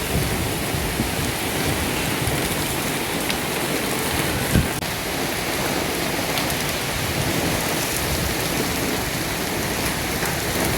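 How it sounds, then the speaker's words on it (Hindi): Heavy rain pours steadily and loudly as a dense, continuous hiss of drops hitting surfaces, with one faint knock midway and no voices. "मौसम कैसा था, मतलब इतनी तेज बारिश हो रही थी"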